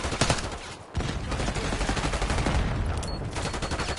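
Sustained automatic gunfire in the Call of Duty Black Ops 6 multiplayer map Babylon, dense overlapping bursts close up and loud, with a brief gap before the shooting resumes just as heavily.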